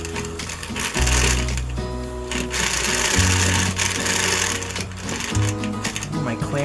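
A drum carder is cranked to process wool into a batt, giving a steady mechanical whirring and rubbing with a rhythmic low rumble, close and loud, while someone talks over it.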